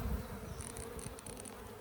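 Robber bees swarm densely around a small two-frame nuc hive, a close, steady insect buzz with brief higher whining passes as individual bees fly near, no voices.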